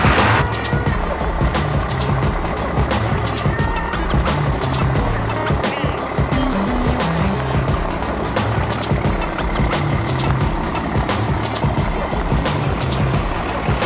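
A Cummins diesel truck engine fitted with a new turbo starts and runs, a loud, constant rumbling roar with rattling clatter holding steady throughout, close by and with no talking.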